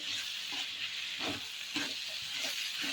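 Moong dal sizzles softly in oil in a pan, a steady close frying hiss with faint stirring scrapes and no voices.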